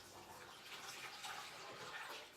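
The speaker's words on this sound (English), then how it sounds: "you're going to put 2 quarts of the distilled water in the pot" Distilled water poured into a pot with roses, a faint continuous splashing pour heard alone throughout.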